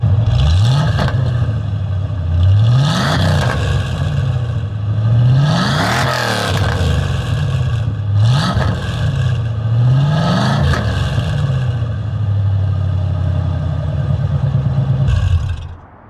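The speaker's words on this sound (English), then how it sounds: "I'll go ahead and give you guys a few revs." A Ford Foxbody Mustang V8 engine revs repeatedly in loud, rising surges over a rough, rumbling idle through SLP Loudmouth exhaust dumps, about six revs close by.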